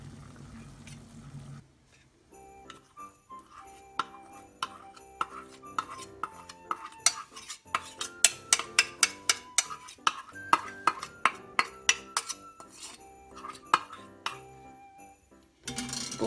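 A utensil stirs melted butter with cream in a bowl for chocolate lava cake. It makes a run of sharp, rhythmic clinks and scrapes against the dish, close and clear, with no talk.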